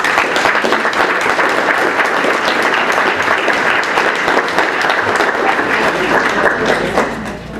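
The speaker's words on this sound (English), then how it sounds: "So let's give a round of applause for Al" Loud, dense applause from the audience at a 2009 community meeting on national health care reform, welcoming a speaker, continuous and full before fading slightly at the close.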